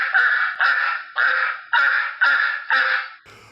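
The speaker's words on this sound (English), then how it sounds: "the sound of those rabid ducks" Six loud, evenly spaced nasal quacks from ducks played as a sound effect, each a sustained honking call with a sharp onset, repeating in a steady rhythm before a brief noisy tail.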